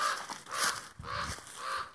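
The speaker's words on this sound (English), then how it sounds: "Making a lot of crows angry for being down here." Several loud, harsh crow caws ring out in quick succession, close by and unaccompanied.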